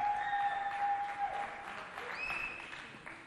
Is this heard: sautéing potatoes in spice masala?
no